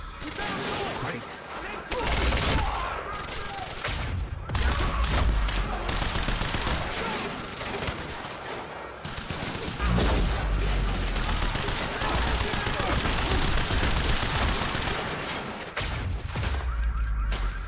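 Sustained heavy gunfire from Quantum Break, with dense automatic bursts and rapid shots that continue through the whole stretch. Voices shout at times under the fire.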